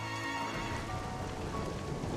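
Steady rain and low rumbling thunder from a stormy scene in the video game Xenoblade Chronicles 3, a continuous wash of dense, fairly quiet patter with a deep undertone and no voices.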